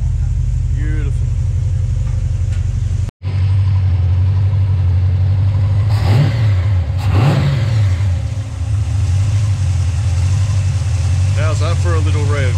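A brand-new 450 hp 351 Cleveland V8 runs close by at a steady idle, then revs up twice in quick throttle blips before settling back, with someone talking over it.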